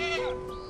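A brown French Alpine goat bleats once on a farm, a short, close, wavering call holding steady before tapering off, with no other sounds around it.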